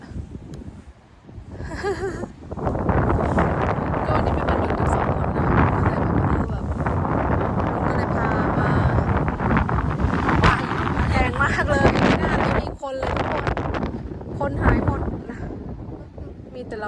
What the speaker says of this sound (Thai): ลมพัดแรงมากเลย